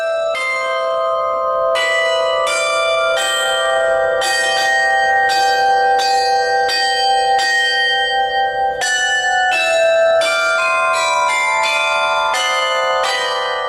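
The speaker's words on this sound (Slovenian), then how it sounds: "Posebnost je tudi melodično zvonjenje, s katerim se obiskovalec seznani povsem od blizu" Church tower bells in Kranj ring out a melody, loud and close, with clear repeated strikes that step through a tune and let their long tones overlap and ring on.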